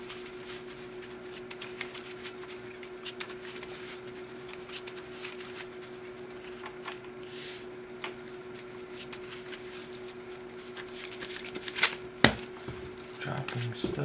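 Cardfight Vanguard trading cards are shuffled and handled at close range, with soft continuous riffling and light clicks, ending in a few sharper taps and snaps.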